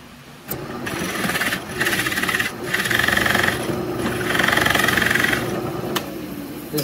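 A drill press bores into driftwood for a tealight candle holder, with the motor droning in bursts of rasping, grinding cutting that repeatedly starts and eases off, loud and close.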